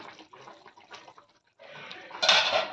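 Spoon stirring drumstick vegetable curry in a pot, soft wet scraping and clinks, then a louder burst of stirring near the end, close and alone.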